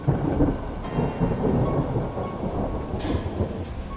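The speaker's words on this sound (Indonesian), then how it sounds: "Hujan mulai turun." Steady rain falls outdoors in a hilly mountain area with a continuous rumble of thunder underneath, dense and fairly loud, with no talking.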